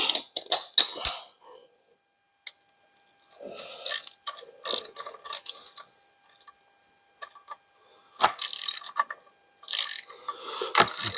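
A tight bolt on a Suzuki DRZ 400 engine is worked loose with a ratchet, giving close, rasping mechanical clicks and grinding in uneven bursts separated by silent gaps, with no talk.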